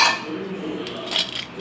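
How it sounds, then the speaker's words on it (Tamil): A lid is set onto an idli steamer pot with a couple of quick metallic clinks, one at the start and another a moment later, close and brief. "இப்போ நம்ம இந்த புட்டிங்கை இதில் வச்சுட்டு இதை ஒரு மூடி வச்சு மூடி போட்டு வேக வச்சு எடுத்துக்கணும்."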